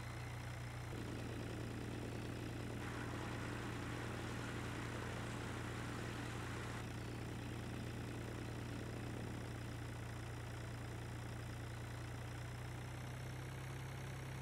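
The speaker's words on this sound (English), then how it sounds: "That's why I like this little tractor." A small tractor engine in the Farming Simulator 2013 video game idles steadily with a constant low hum and drone, running alone with no talk over it.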